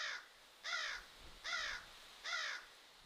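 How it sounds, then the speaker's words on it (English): A crow caws four times at a steady, unhurried pace, heard at some distance against a quiet outdoor background. "with a caw loud enough to rattle the branches."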